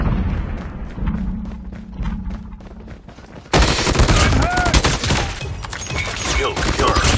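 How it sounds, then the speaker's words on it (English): Grenade blast and gunfire in COD Mobile: a rapid string of sharp shots, then an abrupt loud explosion that gives way to dense, rumbling gunfire and chatter until the end. "Grenade!"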